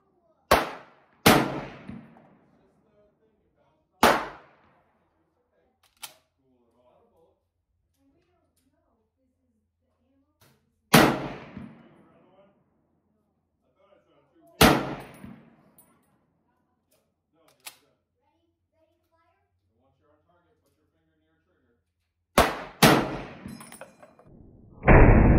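An H&R M1 Garand rifle fires PPU 150 grain ball ammunition outdoors, with sharp, loud single shots spread irregularly across the span, each trailing a short echoing decay, plus a few fainter metallic clicks between them.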